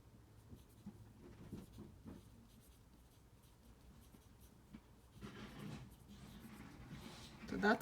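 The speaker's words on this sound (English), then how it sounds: "So I'm going to write that meaning." Hand writing on a page, with faint scratchy pen strokes in short bursts against quiet room noise, getting slightly louder toward the end.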